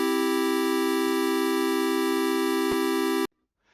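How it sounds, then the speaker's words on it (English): A square wave synth tone programmed in Rust with FunDSP holds one steady, bright, buzzy pitch, loud and unbroken for about three seconds before cutting off abruptly into silence. "we've got a kind of angular square wave, and it has this lovely, like, it reminds me of the NES or the Game Boy."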